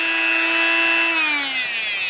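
A 4.5 inch sanding disc on a grinder grinding metal, a loud, steady high-pitched whine that drops slightly in pitch as it bites, close and alone.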